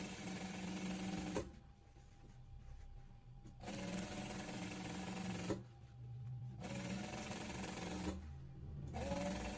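Sewing machine stitching fabric for a padded pleated turban, running in three steady rattling bursts separated by short pauses, close and clear with no talking.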